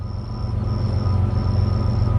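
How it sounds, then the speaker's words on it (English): A passing train rumbles steadily, a low continuous roar with a faint high whine, heard from a backyard patio near the tracks with no talking. "Yeah, here comes the train."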